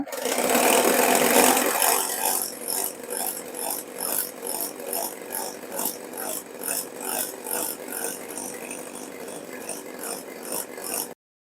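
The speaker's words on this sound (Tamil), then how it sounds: "இப்போ இது எல்லாத்தையும் நல்லா ஃப்ளஃபி ஆகிற வரைக்கும் இந்த மாதிரி ஹேண்ட் பீட்டர் வச்சு விப் பண்ணிடலாம்" Electric hand beater whipping eggless sponge cake batter with condensed milk, a steady motor whir with rhythmic pulsing as the beaters move through the bowl, close and fairly loud, with no talk.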